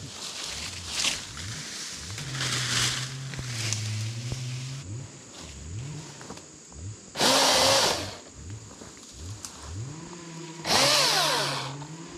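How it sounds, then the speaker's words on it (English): A battery chainsaw revs in short bursts, whining up and dropping off with pauses between cuts, alongside rustling and a couple of louder hissing surges. "Battery chainsaw is awesome."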